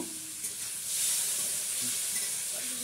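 Fish sizzles in hot oil in a pan during home cooking, a steady close hiss and crackle with a slight swell midway and no talking.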